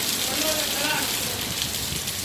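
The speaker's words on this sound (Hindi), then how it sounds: "शाम को बादलों ने बरसना शुरू कर दिया" Rain falls steadily in the evening in Churu, a dense, even hiss of drops pattering on surfaces, continuous and fairly loud throughout.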